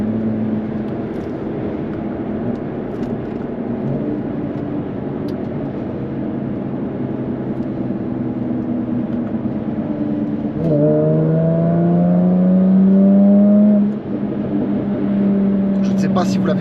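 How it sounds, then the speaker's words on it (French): Jaguar F-Type convertible accelerating in dynamic mode with its active sports exhaust open, a steady loud engine drone that climbs in pitch and swells near the end, heard close from inside the car. "lorsqu'on passe en mode dynamique, l'échappement vient s'activer"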